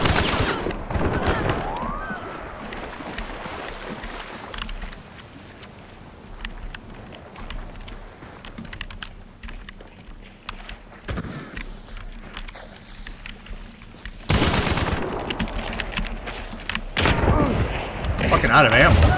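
Automat gun firing in the video game Hunt: Showdown, a few sharp shots in loud bursts at the start and again near the end, with a voice talking in between.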